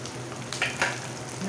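Coconut pieces fry in a tadka of tempered spices, a soft steady sizzle with a couple of brief stirring scrapes, faint and close.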